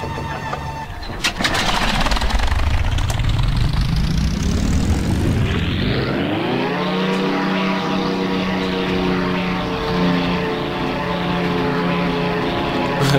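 A Hurricane propeller fighter roars loud and close, its engine rising in pitch as it speeds up, then settles into a steady droning hum with whining harmonics.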